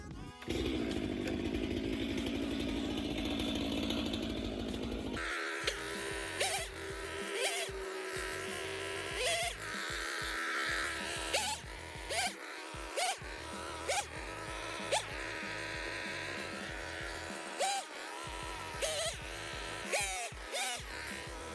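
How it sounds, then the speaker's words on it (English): Chainsaw bucking firewood logs in a wood yard, a steady high engine drone for several seconds followed by repeated revving cuts with brief idle dips between them, loud and close with no talking. "I got the chainsaw already warmed up."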